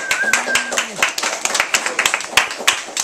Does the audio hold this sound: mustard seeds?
no